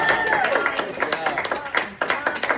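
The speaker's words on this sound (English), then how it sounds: "Give my man a round of applause" At a live cooking demonstration, the audience applauds the cook with brisk, close clapping, uneven sharp claps layered over talking voices.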